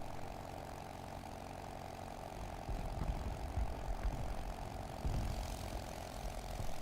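A propeller airplane engine drones steadily in the video game War Thunder, a continuous even hum with low rumbling surges toward the end and no talk.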